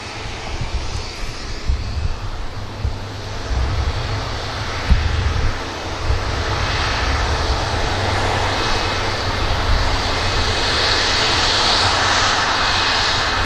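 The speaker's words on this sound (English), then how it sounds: "Jackie, there's a Virgin on the taxi, and that's what we're going to be capturing to wrap up today." Virgin Atlantic jet airliner taxiing at Manchester Airport, a steady loud engine roar with deep low rumble and hissing wind noise, continuous throughout with no talking.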